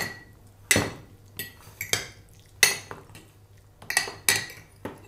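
A utensil clinks and scrapes against a dish while ingredients seasoned with olives and garlic are mixed, giving about eight sharp, irregular taps at close range and quiet pauses between them, with no talking.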